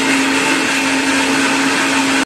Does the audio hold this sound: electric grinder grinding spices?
yes